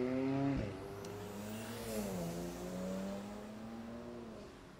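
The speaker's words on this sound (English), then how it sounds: "There is a lot of traffic on this corner" Street-corner car traffic, a car revving and accelerating nearby with a rising and falling engine drone and a brief tire squeal, heard faintly from a moderate distance.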